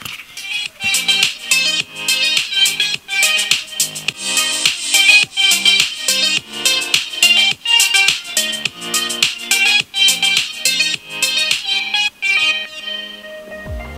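Music with a steady beat and melodic tones plays through a Sena Parani M10 Bluetooth motorcycle intercom, filling the full clip at an even, moderately loud level with rhythmic pulses and no talking.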